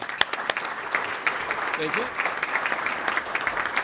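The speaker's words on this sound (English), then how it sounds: "So I just want to give them all a round of applause and say thank you." Steady audience applause fills a breakfast forum for mayors and managers, with a dense, even patter of clapping throughout. A voice briefly speaks over it.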